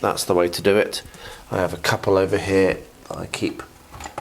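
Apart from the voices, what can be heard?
No distinct noise like a dog, phone or traffic.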